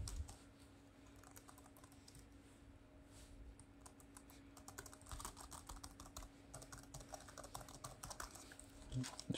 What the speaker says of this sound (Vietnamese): Con này là bàn phím cánh bướm nhé, nó giống như trên laptop ấy.